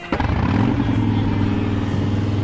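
A 2007 Harley-Davidson Softail Deluxe motorcycle engine idles close by, a loud, steady low rumble with a slight lumpy pulse, heard alone without talk.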